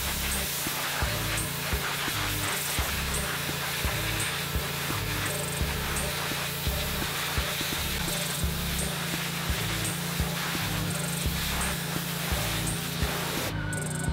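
A pressure washer sprays steadily across a grimy fence caked with years of dirt, giving a loud, continuous hiss and roar that runs close and unbroken for the whole stretch.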